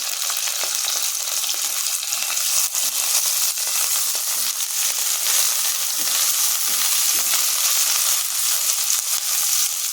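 Green chilli and ginger frying in hot fat, a dense, loud, continuous sizzle and crackle with occasional stirring, steady for the whole stretch and no voices.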